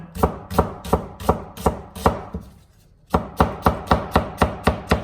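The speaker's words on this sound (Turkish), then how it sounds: "Bir adet soğanı da doğradım." A knife chops an onion rapidly and rhythmically on a board, sharp evenly spaced knocks, with a brief pause before the chopping resumes.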